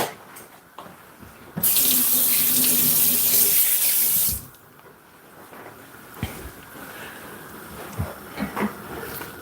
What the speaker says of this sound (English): Just wash my hand off.